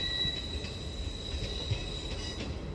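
Northern train 158796 pulls out of Newcastle station bound for Hexham, a steady low rumble of wheels and running gear with faint high squeal, continuous and fairly distant throughout.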